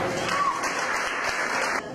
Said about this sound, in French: Est-ce qu'on peut applaudir très fort pour Karine ce soir?